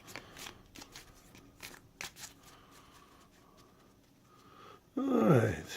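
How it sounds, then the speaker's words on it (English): A deck of cards riffled in a quick, fast shuffle during setup of the Osprey Games board game Samurai Gardener, a short burst of crisp flutter near the end after quiet handling noise. "just to show a quick little fast shuffle."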